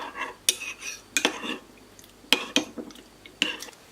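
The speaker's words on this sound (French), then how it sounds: "Là je mélange et j'essaye de faire dissoudre donc la levure." A spoon stirs dry yeast into milk in a bowl, making a few sharp, close clinks and scrapes against the sides in quick bursts, with no voices.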